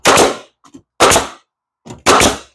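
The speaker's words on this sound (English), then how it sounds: "Helps if you have nails in the gun." A nail gun trimming an interior window, fired empty with no nails loaded, gives three sharp, loud mechanical snaps about a second apart, with small clicks between them and no talk.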